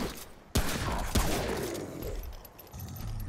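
Gunfire in Remnant: From the Ashes, a PC shooter: two sharp, loud shots about half a second apart, then a sustained rumble of continued firing and ambient clatter.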